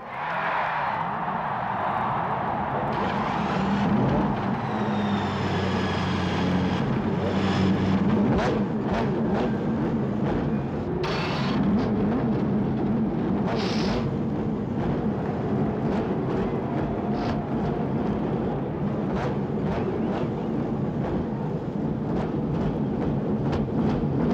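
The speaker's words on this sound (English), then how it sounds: "Gentlemen, start your engines." A field of Indy 500 race cars fires up together, a loud, continuous broadband engine roar with whining overtones that holds steady for the whole stretch, with no clear voices above it.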